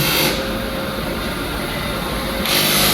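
A welder repairs a small hairline crack in a car wheel rim at a tyre shop, giving a loud, close, continuous crackling hiss that holds steady for the whole stretch and swells slightly at the start and end.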